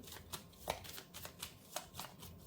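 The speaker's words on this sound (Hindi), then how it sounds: "4 कार्ड्स निकाल रही हूं मैं गाइस।" Tarot cards shuffled by hand in a quick run of soft, papery riffles and slaps, several sharper flicks standing out, with no talking over them.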